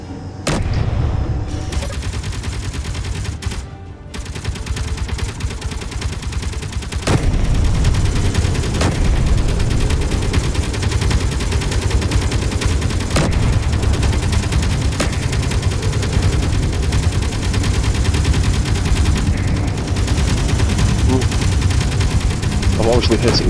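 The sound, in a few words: assault cannon fire in video game Space Engineers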